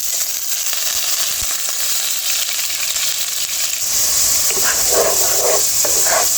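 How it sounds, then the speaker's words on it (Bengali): Steady, loud sizzling of half a cup of onion paste frying in hot oil for biryani, a continuous bright hiss with occasional stirring scrapes toward the end. "তেল দিয়ে আমি এখন দিয়ে দিচ্ছি হাফ কাপ পেঁয়াজ বাটা"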